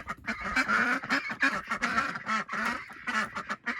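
A flock of homestead ducks quacks busily at bedtime, overlapping calls and honks crowding close together in a near, lively chorus with no clear speech.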